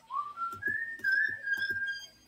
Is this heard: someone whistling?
yes